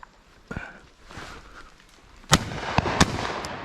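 Shotguns fired at driven pheasants at Powis Castle: a sharp bang about halfway through, followed by two more close together near the end, over quiet outdoor background.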